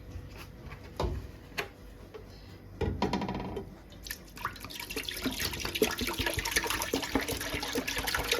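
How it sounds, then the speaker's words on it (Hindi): Two litres of fresh full-fat milk pour into a pot for milk barfi, a soft continuous liquid stream after a few clinks and knocks, close and fairly quiet. "और अब हम इसके अंदर 2 लीटर दूध डाल देंगे।"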